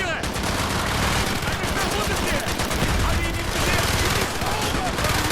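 Call of Duty: Black Ops campaign firefight in the Project Nova mission, with dense rapid gunfire and automatic weapon bursts filling the whole stretch, loud and continuous, and voices calling out in German over the shooting.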